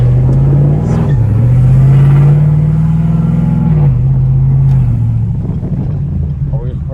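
Modded race truck exhaust heard from inside the cab with windows slightly down, a loud deep droning rumble that swells and dips with revving over several seconds, with people talking over it.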